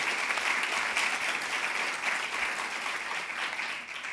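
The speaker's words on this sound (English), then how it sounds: "let's give them a round of applause" Steady, dense applause from a sizable audience at an award presentation during the 2023 Iowa Hunger Summit, loud and sustained throughout with no pauses.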